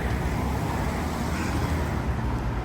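Vehicles, including cars and double-decker buses, pull away from a pedestrian crossing on a UK street as the light turns green, a steady broadband roar of engines and tyres close by with no break across the clip.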